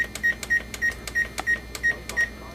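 An electronic oven control panel beeps in a steady series of about eight short, evenly spaced tones while the temperature is lowered, close and fairly quiet in a home kitchen.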